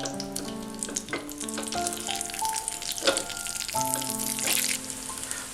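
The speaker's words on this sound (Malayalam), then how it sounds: "കശുവണ്ടി ഒന്ന് മൂത്ത് വന്നിട്ടുണ്ട്" Split cashew nuts frying in a tablespoon of coconut oil, a continuous close sizzle with stirring, while tonal kitchen sounds ring out over it.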